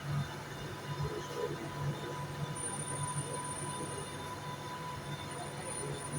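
A passenger train pulling out of a station bound for London Euston, a steady low rumble with rail hum and a thin high wheel squeal running throughout at moderate, continuous level.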